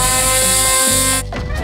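A real saw blade fitted to a toy car whirs steadily with a high electric motor whine and harmonic drone, then cuts off abruptly near the end, leaving a faint rattle.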